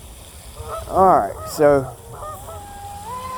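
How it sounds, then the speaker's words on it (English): Geese honking twice in loud, close calls, followed by fainter honks, with someone speaking briefly near the end. "Goose, get out the way, goose."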